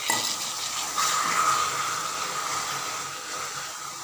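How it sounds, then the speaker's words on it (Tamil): Milk being stirred into a coconut sweet mixture in a pan, a soft continuous sizzle and bubbling with faint stirring, steady and close, no voices. "இப்போ வந்து இந்த பாலை வந்து கொஞ்சம் கொஞ்சமாக போட்டு நம்ம நல்லா கிண்டணும்"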